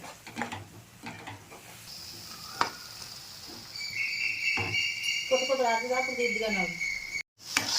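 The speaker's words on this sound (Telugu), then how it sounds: "ఇవన్నీ మంచిగా పచ్చివాసన పోయినంత వరకు అలా ఆయిల్లో ఫ్రై చేయాలి." Tomato or onion paste fries in oil while being stirred for a fish curry, soft sizzling with occasional scraping clicks, joined by a faint high tone and a brief voice-like warble near the end.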